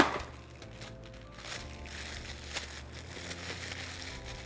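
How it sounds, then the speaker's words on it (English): A plastic bag crinkling as a ball of concha dough is wrapped in it, with soft, close, intermittent rustles and crackles at low volume. "wrap it into a plastic bag."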